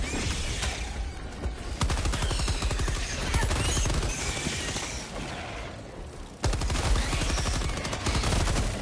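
Rapid automatic gunfire from a Helldivers 2 battle, a dense, loud fusillade of bursts that briefly cuts out near the end and then resumes hard.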